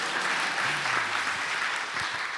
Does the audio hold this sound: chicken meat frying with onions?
no